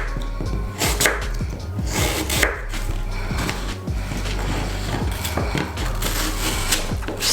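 A knife cuts and cores a green apple for pickle on a cutting board, making a run of crisp, uneven chops and thuds that repeat close by, with no talking.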